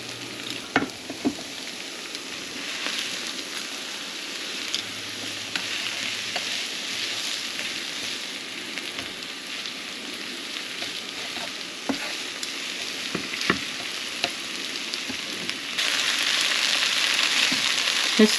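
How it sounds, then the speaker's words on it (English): Vegetables and meat sautéed with soy bean or rice noodles in a pan, a constant close sizzle with sharp utensil clinks and scrapes as the mix is stirred, the frying growing louder near the end, no voices. "Now we can add our veggie and meat back in."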